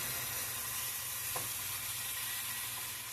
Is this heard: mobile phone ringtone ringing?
no